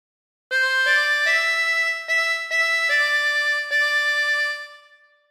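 Harmonica playing a phrase of Waltzing Matilda, a few sustained blow and draw notes in clear succession, loud and close with no talking, fading at the end.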